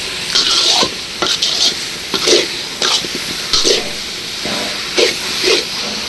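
A raw papaya and coconut laddu mixture is stirred in a hot pan, loud, close scraping strokes in an irregular rhythm over a continuous sizzle and hiss.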